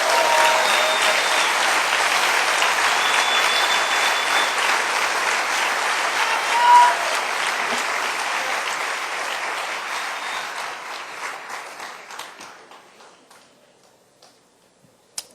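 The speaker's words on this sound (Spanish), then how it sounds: "Denle un aplauso al Rey bendito." Church congregation applauding in a sustained, broad burst of clapping that gradually thins and fades out toward the end, with no talk over it.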